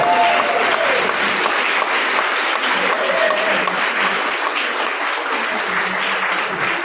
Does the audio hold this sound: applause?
yes